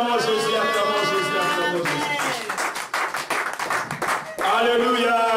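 A church congregation claps in quick, steady rhythm to acclaim Jesus, mixed with singing and voices that rise again after the clapping stops.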